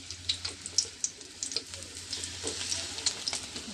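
Battered pumpkin flower fritters sizzle and crackle in hot oil in a home kitchen pan. The frying is faint and steady, with small pops scattered throughout.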